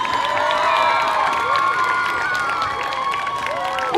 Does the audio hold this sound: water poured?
no